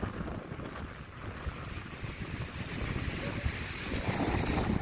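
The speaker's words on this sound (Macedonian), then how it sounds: "дува ветер, ладно е" Wind blowing outdoors, a low, steady rumble and buffeting on the microphone that builds slightly toward the end, with no voices.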